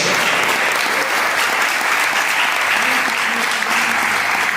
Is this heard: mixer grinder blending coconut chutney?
no